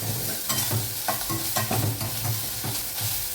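Chopped ginger sizzles in about half a spoon of oil in a pan, a steady crackling fry with soft scraping stirs recurring throughout, close and alone.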